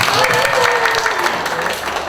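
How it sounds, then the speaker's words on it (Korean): A second round of audience clapping at a Korean village-making network talk event, broad continuous patter with a voice talking over it partway through. "우리 신한 박수 한 번만 더 쳐줄까?"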